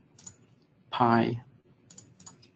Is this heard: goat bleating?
no